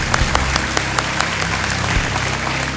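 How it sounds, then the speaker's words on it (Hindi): Studio audience applause on the Kaun Banega Crorepati quiz show, steady dense clapping throughout the short stretch with a busy crowd texture and no voices over it. "आइए, तालियों के साथ आपका हम स्वागत करते हैं।"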